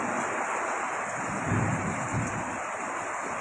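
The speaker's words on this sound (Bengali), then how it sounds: "সেরা একসাথে বৃষ্টি, বজ্রপাত এবং বাতাস।" A Kalbaishakhi storm with heavy rain and strong wind: a constant, loud rushing roar of rain and gusts, swelling slightly midway, with no distinct thunderclap.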